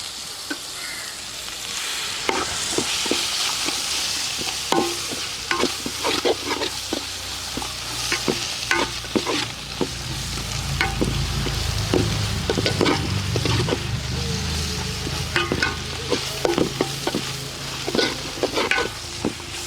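Onions and tomato sizzle in a hot pan for chicken curry while a spoon stirs them, giving repeated close scraping strokes over a continuous loud frying hiss.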